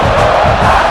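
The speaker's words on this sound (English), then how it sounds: "And the crowd coming to life here" A stadium crowd roars in NCAA College Football 26 during an Alabama Crimson Tide versus South Carolina Gamecocks game, a loud, dense, continuous cheer filling one brief second with no talk.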